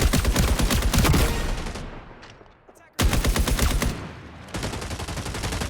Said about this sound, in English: Nine shots.